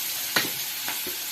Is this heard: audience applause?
no